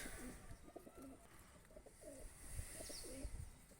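Soft, repeated pigeon cooing in low rolling phrases, several calls in a row close by, over a faint steady background hiss.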